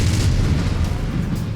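A Blackjack mech's autocannons fire in MechWarrior 5, producing a short burst of heavy, booming low thuds that roll on continuously, loud and close.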